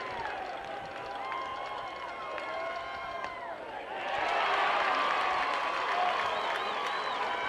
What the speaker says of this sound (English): each pitch elicits a cheer from one side of this park to the other